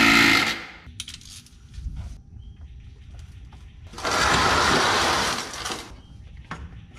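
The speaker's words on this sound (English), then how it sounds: "with this 15mm socket to take out this bolt" A hand ratchet with a 15mm socket clicks against a tight transmission drain pan bolt on a 4L60E. There is a quick, loud burst of clicking at the start and a longer run of steady ratcheting in the middle, up close and without speech.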